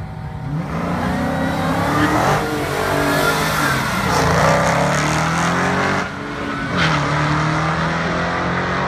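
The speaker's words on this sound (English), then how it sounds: "Marauders are often drag raced." A Mercury Marauder revs and accelerates hard in a drag race, its loud engine note rising and falling through several gear pulls with a faint tire squeal, with no talking.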